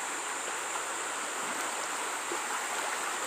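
Creek water flowing over a shallow crossing, a steady close rush of water with a faint high tonal hiss over it and no talk.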